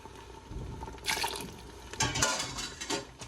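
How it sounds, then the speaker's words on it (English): A cup of broth pours into a pot of Filipino ox tail kare kare stew made with peanut butter, giving a brief, soft liquid splashing and gurgling in a few surges, close but fairly quiet. "So, let's give it another cup of broth."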